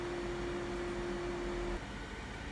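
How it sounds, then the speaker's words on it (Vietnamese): A Philips XL HD9240 air fryer cooking potatoes runs with a steady fan whir and a thin electrical hum that stops partway through, leaving a quieter whoosh. "bây giờ thì mình chỉ cần bật. Đấy, là nồi sẽ tự hoạt động."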